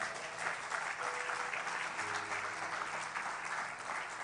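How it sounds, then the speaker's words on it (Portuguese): A church congregation breaks into sustained applause, a dense, even roar of many clapping hands heard from a distance, with a faint background hum underneath. "Você pode dar um grande aplauso ao Senhor?"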